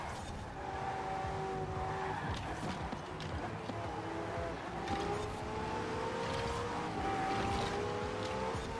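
A LEGO car racing in Forza Horizon 4 and braking into a corner: a steady droning engine note with shifting pitch and a faint rising whine, continuous throughout.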